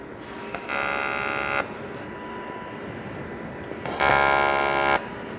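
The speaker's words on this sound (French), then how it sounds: "Je vais souder de l'autre côté." Aluminium being TIG welded, with two separate bursts of steady buzzing arc, each about a second long, standing out over a quieter background hum, close by and without speech.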